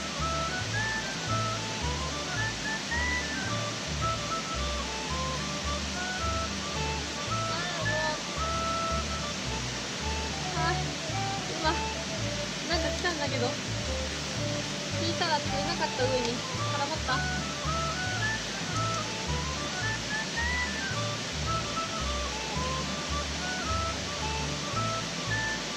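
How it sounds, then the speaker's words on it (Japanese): A mountain stream rushes steadily in an upstream river stretch during stream fishing, a continuous close roar of flowing water filling the whole span with low rumbling underneath. "前行ってた川よりかもっと上流の方に来ております。"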